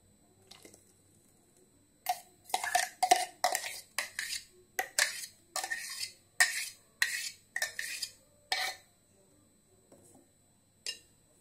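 A spoon mixes mango ice cream mixture in a bowl, producing a steady run of wet, scraping clacks against the bowl for several seconds before slowing to a few last taps.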